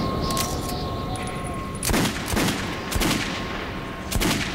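Gunshots fired at a creature in Metro 2033, several separate loud bangs spaced about a second apart, with a steady background hum and a brief high tone early on.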